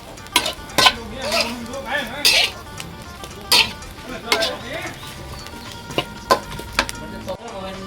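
Food frying in a pan is stirred with repeated scraping clatters of a utensil against the metal and a light sizzle underneath, while someone talks throughout.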